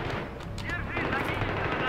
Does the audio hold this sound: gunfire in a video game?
yes